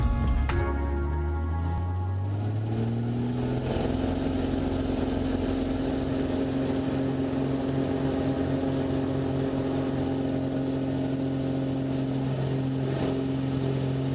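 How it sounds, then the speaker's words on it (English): An Extra 300L aerobatic plane's engine, mixture set full rich, is brought up to full power for a standard takeoff. A steady droning hum rises in pitch over the first few seconds, then holds strong and even. "when you're ready, it'll be a mixture full rich and then just full power, standard takeoff"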